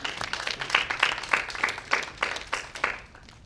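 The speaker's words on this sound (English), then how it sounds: "give her a round of applause." A small roundtable audience gives brief applause, a scattering of individual claps in an uneven rhythm that thins out and stops after a few seconds.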